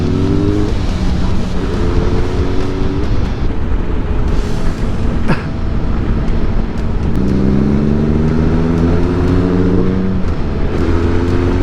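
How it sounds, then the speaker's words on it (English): A Kawasaki ZRX 1200 motorcycle engine revs up through several rising pulls, each climb breaking off at a gear change before building again, loud and close over a constant riding rumble with one sharp burst midway. "I love the sound of the engine on this, the way that it dials up, it sounds really nice."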